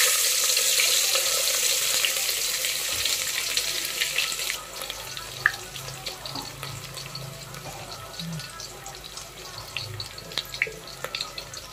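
Garlic sizzles in hot oil in a pan with a loud, close hiss at first. The sound then settles into a softer, steady crackle of frying with scattered pops.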